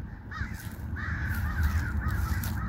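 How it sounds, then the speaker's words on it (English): Crows caw repeatedly overhead while chasing a hawk outdoors, harsh calls repeating in quick bursts over a steady background rumble. "The crows are chasing the hawks."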